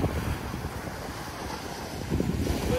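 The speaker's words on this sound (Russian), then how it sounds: "С моря дует ветер." Sea wind off the Black Sea at Sochi on a mild December day with light waves, blowing as steady broadband rushing and microphone buffeting, gusting harder near the end, with no voices.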